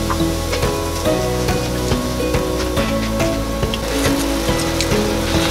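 Yeast-raised homemade doughnuts frying in hot oil in a fry pan, a loud, continuous close sizzle and bubbling with a few soft knocks, no voices.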